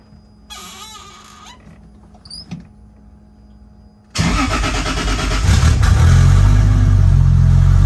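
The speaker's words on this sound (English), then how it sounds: "So this thing starts up like pretty instantaneously on a cold start." A 2JZ-swapped Nissan S14 drift car cranks and fires on a cold start, a loud sudden catch into a rough, rising idle that swells and stays strong, after quieter clicks and shuffling.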